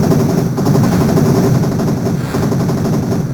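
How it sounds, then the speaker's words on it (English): Machine guns on a wagon in the Transarctica video game fire a loud, continuous rattle of rapid shots that runs throughout, close and dense, with no voices. "I can't jump down from the wagon because the machine guns are going to mow me down."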